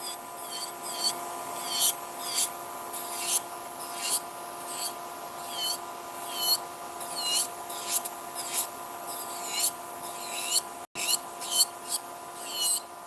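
Hand file scraping down gel nail extensions during removal, a close, rhythmic series of short rasping strokes repeating about once per second over a faint steady hum, with no voices.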